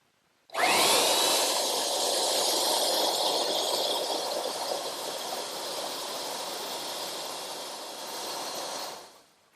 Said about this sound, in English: now I'm going to ease these sharp corners with my belt sander